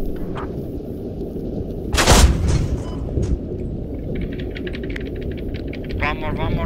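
A tank cannon fires once with a loud, heavy boom in a tank battle video game, set against steady engine rumble, with clicking sounds and voices over radio chatter around it.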